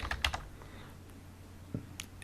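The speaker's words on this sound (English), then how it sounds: "Click on start and start typing." A few quick keystrokes tap close by on a computer keyboard, with short clusters at the start and single taps later in a quiet room.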